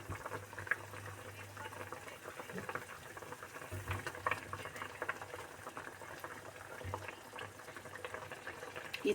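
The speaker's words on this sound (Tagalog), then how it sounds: "Pakuluin mo siya." Tomato fish soup bubbles steadily in a pot, a continuous soft boiling burble with faint pops running throughout at low level.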